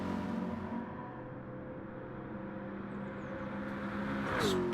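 Race cars whine along in a racing video game set at Circuit de la Sarthe, with sustained engine tones shifting in pitch and a rising rev near the end, fairly quiet and with no talk.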